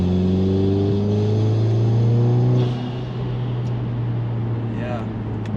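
A VW Golf R Mk7.5 engine switched into race mode with its exhaust valves open, a loud steady idle drone that shifts to a deeper rumble partway through, with someone talking over it.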